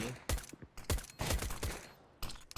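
Rapid bursts of rifle and pistol gunfire from a competitive Counter-Strike match, several loud sharp shots in quick succession with brief gaps, no voices.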